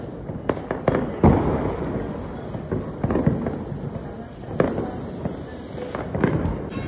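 Firecrackers go off in quick irregular bursts of sharp pops and crackles, close and fairly loud, with some crackling spread across the stretch.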